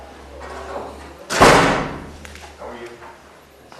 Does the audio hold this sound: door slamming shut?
yes